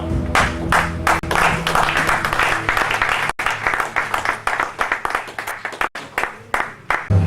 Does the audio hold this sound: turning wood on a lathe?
no